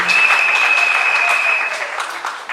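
Wedding guests applaud together in a sustained, dense burst of clapping that stays loud and steady before easing slightly toward the end, with no voices standing out.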